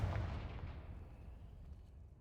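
Confringo fire spell blast in Hogwarts Legacy, a sharp booming burst at the start that rolls off into a fading low rumble, with no talk.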